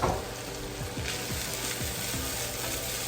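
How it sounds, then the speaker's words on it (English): Rice sizzles loudly in a hot pan with crispy garlic, onion and mango for Jamaican mango fried rice and peas. A steady, close frying hiss runs throughout, broken by repeated scraping stir strokes. "Now you can really start to hear that rice sizzle"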